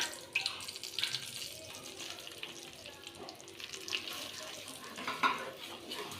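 Roasted gram flour being stirred in hot ghee, a soft scraping and light clinking of a spoon against the pan, close and fairly quiet, with faint background hiss and no voices.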